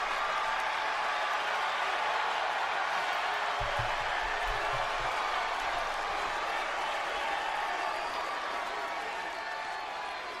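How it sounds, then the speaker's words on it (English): A wrestling arena crowd at a WWE SmackDown event roars in a continuous, dense wash of cheering and noise, loud and sustained throughout, with a few low thumps partway through. "feeling to hear the roar of the crowd again and to just soak it in"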